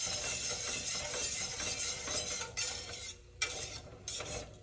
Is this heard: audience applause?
no